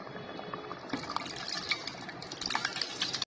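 Cooked toor dal poured into a boiling brinjal and mango sambar with tamarind, a close wet splashing and gurgling pour with bubbling pops, no voices.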